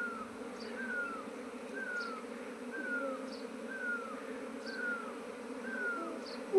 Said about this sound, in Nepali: मौरी आयो है गाइज श्रम ट्र्याप राखिराखेको थिएँ मैले मौरी आयो